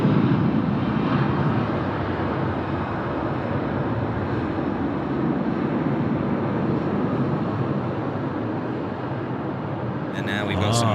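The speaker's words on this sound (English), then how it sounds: "we watch this Qantas 737 getting airborne here off runway 34 left" A Qantas Boeing 737 climbs away after takeoff from runway 34 left at Sydney Airport, a broad, steady jet engine roar that lasts throughout with a faint rumble and a slight swell and fade.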